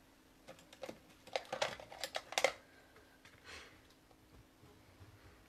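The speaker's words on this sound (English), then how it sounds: "let me just fold this in half." Pine cone patterned paper is folded in half for a handmade card. Faint, quick rustles and soft creasing taps cluster in a brief burst, then fade to quiet.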